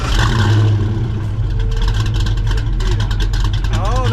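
Ford Mustang Foxbody Cobra with a V8 engine cranks over and settles into a loud, choppy idle, with people talking close by throughout.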